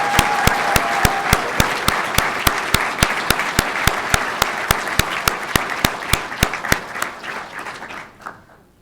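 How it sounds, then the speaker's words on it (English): A graduation audience applauds the graduates, a sustained crowd clap with a strong regular rhythmic beat running throughout, tapering off and fading at the end. "let's give them all one more round of applause for their accomplishments"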